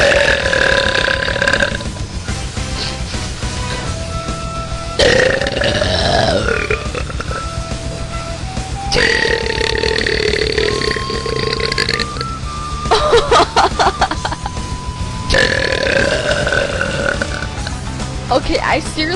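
Repeated chunky belches from a woman after drinking only water, several loud, drawn-out burps close to the mic with short gaps between them.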